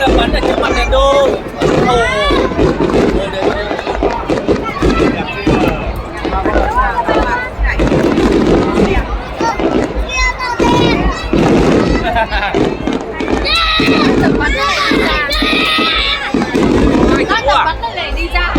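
Fireworks bursting at the Đền Đô temple festival, a dense run of loud cracks and booms with rolling echoes over a chattering outdoor crowd, people talking close by throughout.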